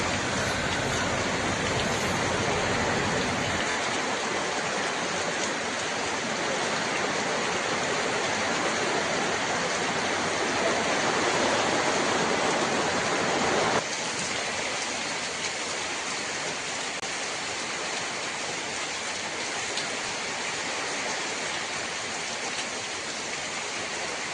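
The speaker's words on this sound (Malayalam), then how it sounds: "മഴ അങ്ങനെ തകൃതിയായിട്ട് പെയ്തുകൊണ്ടിരിപ്പുണ്ട്" Steady, heavy rain pours down in a dense, continuous roar with no pauses, loud and close throughout.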